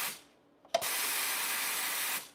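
A Meraki espresso machine steam wand steams: after a soft fading hiss and a brief click, a strong, steady, loud hiss runs for about a second and a half, then cuts off abruptly.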